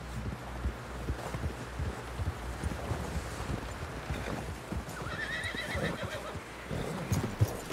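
Horse in the video game Red Dead Redemption 2 whinnies amid soft clip-clop hooves and wind noise, the neigh loud and close near the end.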